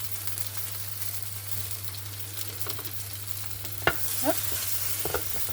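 Food fries steadily in a pan with a soft, continuous sizzle over a low hum, broken by a brief utensil scrape and stirring near the end, and a single short spoken word.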